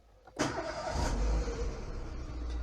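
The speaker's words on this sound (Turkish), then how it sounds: "mesela aracımızı çalıştıralım" A Renault Clio 4 car engine cranks and catches with a sudden burst, then settles into a steady, fairly close idle rumble.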